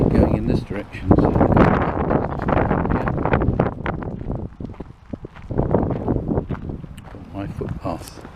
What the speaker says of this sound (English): Slightly less windy now beside this hedge, rather fortunately.